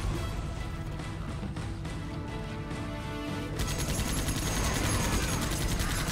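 Continuous barrage of rapid booming blasts and crackling impacts, loud and dense, intensifying in the second half, as demon-thrown fireballs explode one after another in the video game Dreamkiller.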